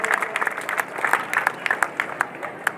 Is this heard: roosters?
no